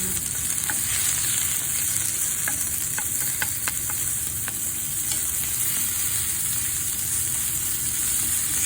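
Garlic sizzles steadily in a frying pan while cooking pansit sotanghon, a constant loud hiss with a few light scrapes of stirring over the top, no voices.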